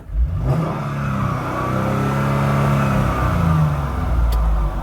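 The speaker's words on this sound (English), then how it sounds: "just to see what this car sounds like" A Mercedes CLK 320 engine climbs in a strong rev close by, its pitch rising and holding in a smooth, full-bodied drone before easing off, with no voices.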